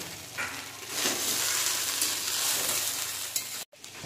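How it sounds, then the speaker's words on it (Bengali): Fried rice made with basmati rice sizzles in a hot pan while a spatula stirs and mixes it, a close, continuous frying hiss with scraping strokes, ending in a sharp brief cutoff. "ভাতগুলো খুব ভালো করে মিশিয়ে নেব।"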